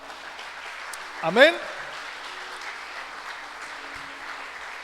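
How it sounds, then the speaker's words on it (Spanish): Church congregation applause at an evangelical service, a moderate, even patter of clapping throughout, with a voice briefly calling out over it. "Denle un fuerte aplauso a la palabra."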